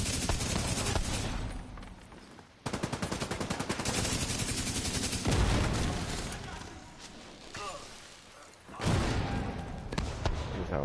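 Heavy gunfire rattles through a firefight in The Division 2, with loud sustained automatic bursts broken by brief pauses, then resuming hard, as a voice talks over the shooting.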